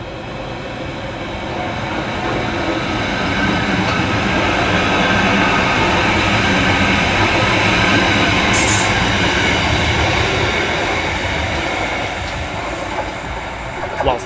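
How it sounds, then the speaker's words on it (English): Merseyrail Class 777 electric train, unit 777-142, departing on a Liverpool Central service, a steady rolling rumble and rail hiss that swells and holds, with a brief squeal of wheels partway through. "Next out to depart is 777-142, working the 1356 Merseyrail electric service through to Liverpool Central."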